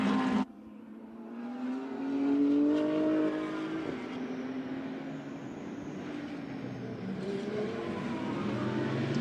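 Audi R8 GT race cars racing on track at the China GT Championship, a sustained engine roar rising and falling as the cars run near, with gear changes and a brief sharp cut at the start.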